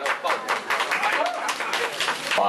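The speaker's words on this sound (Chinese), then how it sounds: "掌声欢迎" Applause from the audience welcoming guests at a film premiere, a burst of brisk clapping heard close behind overlapping speech from a host.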